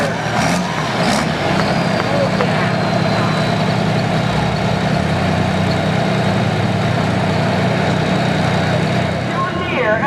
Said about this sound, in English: John Deere alcohol burner.